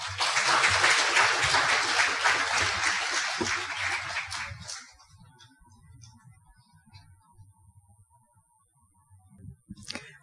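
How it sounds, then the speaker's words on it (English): Audience applause for a law lecturer at a lecture in Makati City, a dense burst of clapping that fills the first half and fades to scattered claps and murmuring, with a brief flurry again at the end. "Ladies and gentlemen, a warm applause for Dr. Maria Liza A. Lopez Rosario."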